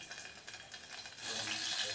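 Two spoonfuls of oil start sizzling in a hot pressure cooker on a gas stove, a soft hiss swelling louder partway through and holding steady to the end.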